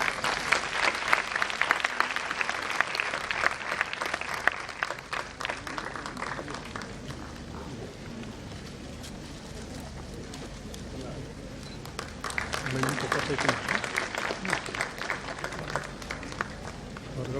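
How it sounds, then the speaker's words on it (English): A room of people claps for a team at a formal gathering with dignitaries. The applause is loud at first, thins to a quieter patch midway, then swells again, with voices mixed into the crowd noise. "A huge round of applause for the team."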